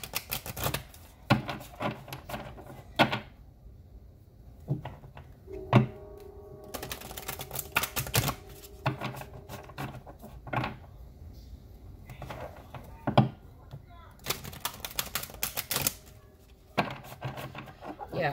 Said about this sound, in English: let's pull two cards from the Vintage Wisdom Oracle card deck